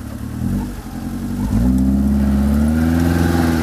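A car engine pulls off in first gear with the reduction gear engaged, rising from a steady idle into a louder, sustained mid-pitched drone, close and alone with no talk.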